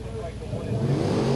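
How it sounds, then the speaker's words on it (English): A Phantom dragster roars as it accelerates at a drag race, a loud, steady, broadband engine rush that swells slightly toward the end, with a voice partly over it. "one of these Phantom dragsters coming up in the left lane"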